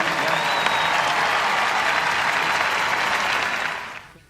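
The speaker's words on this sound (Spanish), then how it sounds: "Merecen un aplauso" Sustained applause from a church congregation fills the space at full volume, a dense steady wash of many hands that holds for several seconds before fading away.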